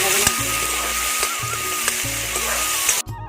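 Spices tempering in hot oil for Maggi noodles, a loud, steady sizzle and crackle close up that runs unbroken before cutting off abruptly near the end.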